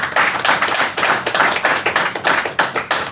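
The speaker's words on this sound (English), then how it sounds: "that's worth a round of applause" A small group claps during a casual interview, close and loud with distinct, fairly sparse individual smacks rather than a dense wash, lasting about three seconds.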